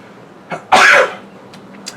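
A single sharp sneeze bursts out after a brief intake of breath, then quiet with a few small clicks.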